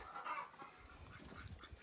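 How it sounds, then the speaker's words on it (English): Hens on a farm cluck softly as they are let out of their coop, with a few faint, scattered clucks over quiet background noise. "So we will let the hens out."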